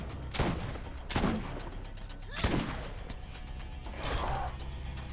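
Gunfire in the video game Borderlands, several separate bursts of shots sounding about a second apart over a steady game background.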